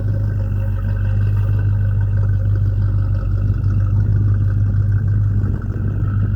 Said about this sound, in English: it just has a nice sounding exhaust. Sounds like it might have a little bit of a cam too. But just listen to that.